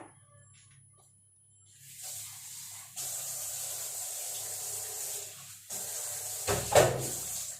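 Water poured into a pan of hot curry with ground coconut paste sets off a loud, steady sizzling hiss that builds after a quiet start and runs several seconds, with a sharp bubbling burst near the end.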